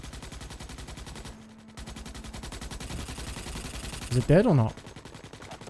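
Rapid automatic gunfire from a weapon in the video game Starship Troopers: Extermination rattles steadily in quick repeated bursts while someone speaks over it.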